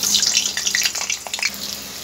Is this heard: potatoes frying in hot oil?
yes